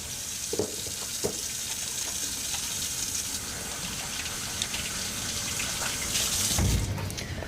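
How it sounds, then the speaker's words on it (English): Hands being washed under a running kitchen tap, a steady close gush of water with small splashes and a brief louder surge near the end. "Wash my hands one more time."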